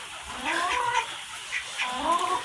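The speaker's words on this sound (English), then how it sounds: "Had to move the baby turkeys in here." Young turkey poults indoors after being moved in from drizzly weather, giving repeated high peeping and chirping calls in close, overlapping bursts with brief pauses between them.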